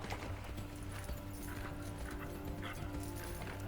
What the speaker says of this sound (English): Did I point out this is half the game, horse riding?